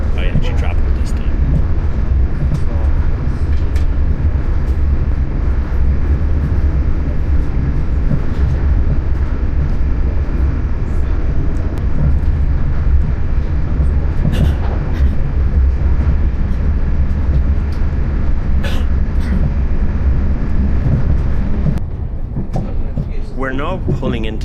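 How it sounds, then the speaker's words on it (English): Train pulling into Charleville railway station in Ireland, a steady loud rumble and rolling clatter of the carriage interior that continues for most of the stretch before easing and quieting near the end. "We're now pulling into Charleville railway station."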